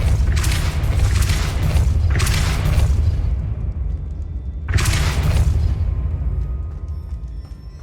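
Depulso force spell cast repeatedly in Hogwarts Legacy on PS5: three loud whooshing bursts, each a broad rushing blast lasting about a second, over a steady deep rumble of ambient game sound.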